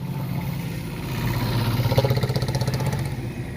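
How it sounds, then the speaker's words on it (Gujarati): A queue of tractors, including Sonalika, Farmtrac and Powertrac models, idling at a dealership on Uttarayan day, a steady low engine rumble with a rhythmic throbbing idle swelling louder midway, with no speech. "જો લાઈન પડી ટ્રેક્ટરની ટ્રેક્ટરની લાઈન પડી"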